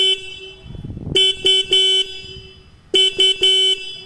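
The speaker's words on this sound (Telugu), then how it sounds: "సో హార్న్ అయితే మనం ఒకసారి విందాం." A KTM RC200 motorcycle horn sounds up close in short, loud beeps: one longer blast followed by a few quick toots, a pause, then another cluster of rapid honks.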